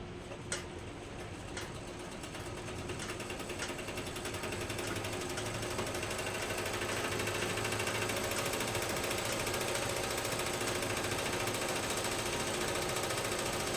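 A domestic sewing machine winds thread onto a bobbin while a suit is being stitched, giving a steady, continuous mechanical whir that holds at an even level close by after a brief start.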